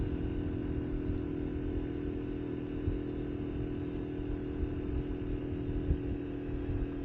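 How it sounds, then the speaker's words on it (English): A Honda Navi mini motorcycle engine at full throttle climbing a steep hill, a steady, strained drone with constant low rumble and a droning whine, near and unbroken, with no talk. "Full throttle and going 30 right at the moment."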